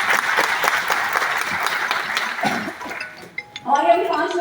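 Applause from the audience at a large motivational business event, dense and sustained for about three seconds before thinning out, after which a voice begins speaking.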